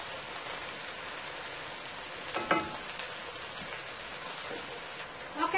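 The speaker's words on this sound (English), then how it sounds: "I'm gonna let that continue to fry until it's golden brown" Okra frying in a pan for a Guyanese-style dhal and rice with vegetables, a steady close crackling sizzle throughout with a couple of brief louder spatters.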